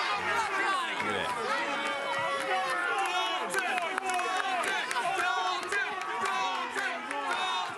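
A wrestling arena crowd cheers and chants to rally behind a wrestler, a dense continuous roar of many voices that stays loud and steady throughout.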